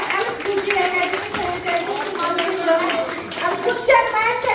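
An audience claps vigorously in a hall during a makeup workshop at a mall, sustained applause with raised voices and chatter mixed in.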